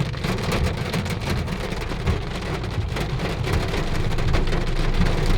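Heavy rain pours down steadily and loudly, a dense continuous hiss of downpour with no voices, swelling slightly toward the end.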